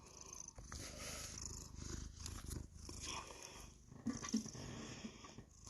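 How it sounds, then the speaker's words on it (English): A cat purrs close by in a home, a continuous rhythmic rumble that pulses with each breath and carries a few soft snuffles, with no speech over it. "Don't mind the purring cat right here."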